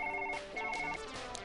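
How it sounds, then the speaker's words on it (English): A telephone rings in a faint, quiet electronic warble, with two or three short repeating bursts and no one speaking. "time to answer the goddamn phone"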